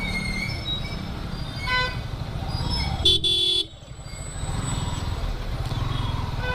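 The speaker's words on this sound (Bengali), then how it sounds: "প্রচণ্ড জ্যাম হয় এই জায়গাটায়।" Car horns toot in a heavy traffic jam on a busy road in Kalimpong, one long blaring horn standing out midway over the rumble of engines, with other honks and vehicle noise around.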